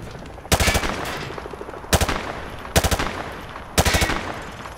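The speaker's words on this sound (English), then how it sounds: "Grab that weapon off the table and fire at the targets behind you." An automatic weapon fires from the hip at targets in Call of Duty Modern Warfare 2 Remastered, in four short, loud bursts of rapid shots separated by brief pauses.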